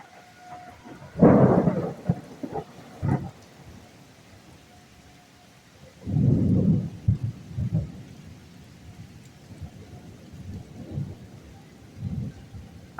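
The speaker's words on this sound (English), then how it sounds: "we got our thunder and lightning" Rolling thunder from a storm rumbles in two heavy bursts with smaller rumbles between, over a steady hiss of rain, with no talking.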